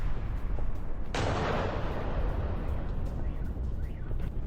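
A single sharp distant blast from a drone strike on a fuel depot bursts out about a second in, followed by a rumbling decay over steady background noise.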